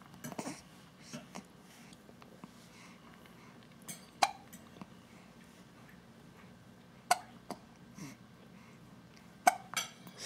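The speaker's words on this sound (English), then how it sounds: "hiccuping like crazy." A baby girl hiccups several times in a quiet room, with short sharp hiccups spaced a few seconds apart over faint background noise.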